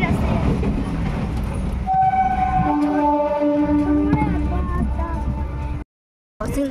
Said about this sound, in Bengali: ট্রেন যাচ্ছে, রেড ক্রসিং পড়ে আছে।